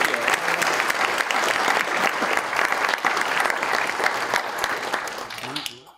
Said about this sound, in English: Let's get a round of applause for everybody.